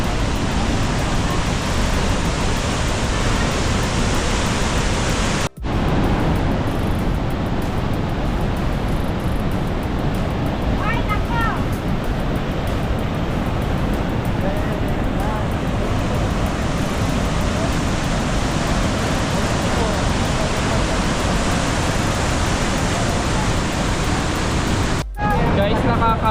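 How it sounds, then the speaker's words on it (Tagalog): Powerful waterfall in Alberta, a loud continuous broadband roar of rushing, high-pressure water that fills the whole stretch, with two brief dropouts and faint voices beneath. "ingay ng tubig at saka yung nature."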